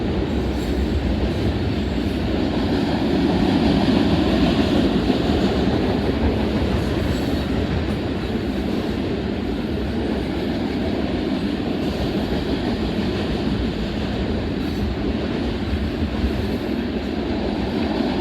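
Loud, continuous rumble of a long freight train with ethanol tank cars rolling past nearby in Oak Harbor, Ohio, with steady wheel and car noise throughout and no voices.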